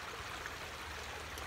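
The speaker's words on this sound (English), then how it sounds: "enjoy the peace and tranquility of the water feature that leads into the koi pond" A garden water feature trickling into a koi pond, heard as a soft, steady, even wash of flowing water with no breaks or voices.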